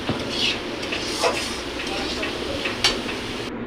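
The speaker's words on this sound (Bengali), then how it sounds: "মশলাটা কষাই নিচ্ছি।" Spice paste for egg curry sautéing in a pan, a low sizzle under repeated metal spoon scrapes and clinks against the pan, a few stirs loud and close.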